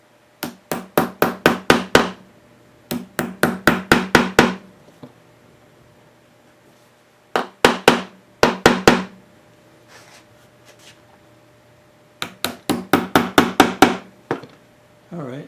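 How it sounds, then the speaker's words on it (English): Sharp, rapid tack hammer taps driving upholstery tacks into a 1950s baby stool come in quick bursts of six to eight blows, separated by short pauses, close and crisp with no voices. "They say to put these in with a rubber mallet, but we're going to use a tack hammer."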